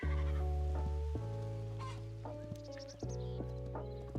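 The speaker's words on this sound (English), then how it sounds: "that's a baby sheep" Baby sheep in the video game Hytale bleating in a few sustained, wavering calls that sit loud and close, overlapping each other over a low steady hum, with no talking.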